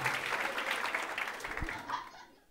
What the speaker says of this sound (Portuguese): uma salva de palmas pra esse momento